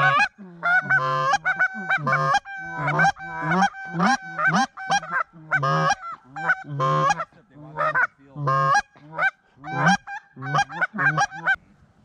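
A flock of geese honking loudly and repeatedly during a goose hunt, the calls coming in dense, overlapping bursts that keep going nearly without a break.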